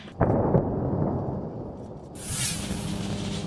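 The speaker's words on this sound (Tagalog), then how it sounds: "rinig pa rin ang ilang pagsabog." A sharp blast, then a second thud, followed by a low, rolling rumble that lingers and swells again in the background.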